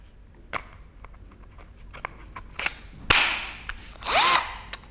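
Bosch GSB 120-LI 12V cordless impact drill (combi) handled with clicks and taps, then two short bursts of the motor whirring up and winding down, close and loud.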